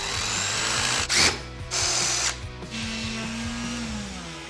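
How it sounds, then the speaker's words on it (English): A power drill countersinks a hole in a homemade supermoto footpeg slider for a Sherco 500 SMF, its motor whirring steadily through repeated short bursts with brief pauses, loud and close. "I need to countersink this a little bit"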